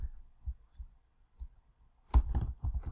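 Keys clacking on a computer keyboard as a web address is entered, a few sparse taps followed by a denser quick burst of typing near the end, fairly quiet and close.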